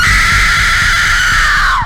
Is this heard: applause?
no